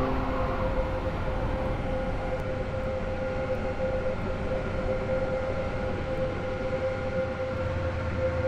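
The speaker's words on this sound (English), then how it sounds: "The train now approaching platform 5C terminates here." Class 801 train on a Roblox railway game, pulling into a station platform: a steady, loud electric drone with sustained tonal hum runs throughout, unbroken and close, with no talk over it.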